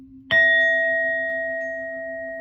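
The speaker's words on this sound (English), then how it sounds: "I'm gonna hit this bell again, y'all." A bell is struck once, ringing out with a sharp attack and a long, clear sustained tone that slowly fades over two seconds, with no talking.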